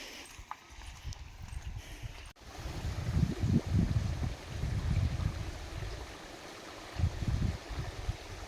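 Water flows in at the corner of a field after rain, a steady low rushing gurgle close by, with uneven surges over the murmur.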